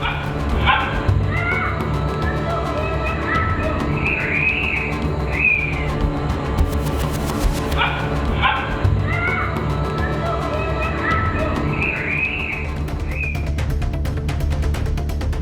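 Several dogs bark and yip in repeated bursts in a street near homes in Vadakarai, Tenkasi district, Tamil Nadu, with whimpering between the barks over a steady noisy background, loud and fairly close.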